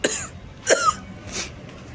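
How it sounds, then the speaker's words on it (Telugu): Two or three sharp coughs from someone with a cold come in quick succession, close and fairly loud, each a harsh burst with raspy throat noise between them and no talk. "ఈ జలుబు దగ్గు అది దగ్గితే కళ్ళ నుంచి నీళ్ళు వచ్చేస్తున్నాయి"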